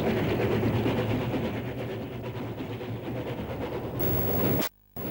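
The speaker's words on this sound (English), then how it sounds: "The Up Central West Express arrives at Bathurst with 3639 in charge." Steam locomotive 3639 hauling the Up Central West Express into Bathurst station, a loud, steady rumble and hiss of the train that holds throughout before cutting off abruptly near the end.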